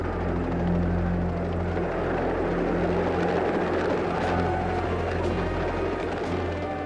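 Steady, heavy rotor drone of helicopters over a prison yard during the 1971 riot assault, a dense continuous roar with a low thrumming beat that never lets up.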